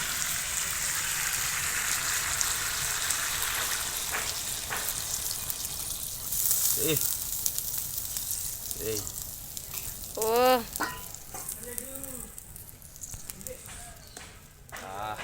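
Potatoes frying in a pan give a steady loud sizzle that flares as water goes in, joined by close clinks of stirring and a few brief spoken words late on.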